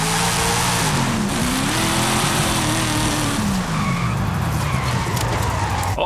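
Cadillac CT5-V Blackwing with a 6.16-litre V8 in Forza Horizon 5, engine revving hard and loud throughout with sliding tyre squeal over a continuous roar, pitch rising and falling as the car accelerates.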